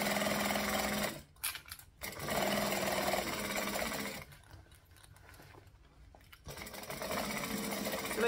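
A domestic sewing machine stitching fabric runs in a steady close whir, stops briefly, then resumes for a back stitch before pausing again and starting once more, loud and alone.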